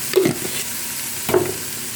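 Chow chow thoran fries in a pan and is stirred twice, each pass a short scraping rustle over a quiet continuous sizzle.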